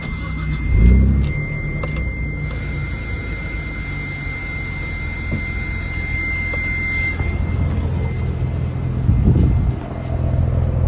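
A 1991 Dodge Stealth twin turbo runs at a steady idle, a continuous low engine drone with a faint high whine, a couple of brief louder swells and light clinks.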